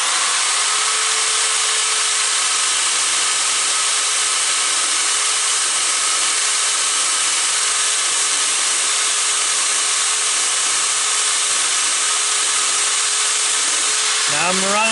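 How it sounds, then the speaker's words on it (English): A grinder bit in a drill sharpens a band saw blade with carbide teeth in a steady, bright, continuous whine that holds unbroken for the whole stretch, close and loud, then winds down at the end. "Now I'm running that grinder all the way off the edge there"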